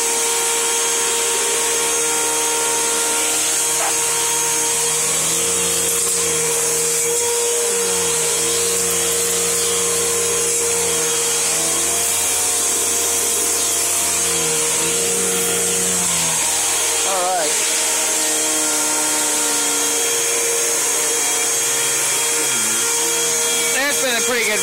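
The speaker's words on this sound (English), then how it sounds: "That's been a pretty good vacuum." A 2012 Bissell Momentum vacuum cleaner runs steadily with its hose in use, a loud continuous whine and motor drone, with the pitch shifting as suction changes and a voice faintly heard underneath.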